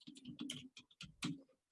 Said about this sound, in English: So we'll type in our password.